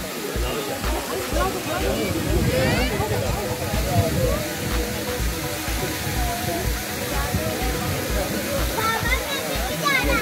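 Steady roar of rushing water at Sajikot waterfall near Havelian, Abbottabad, loud and continuous throughout, with voices talking faintly underneath.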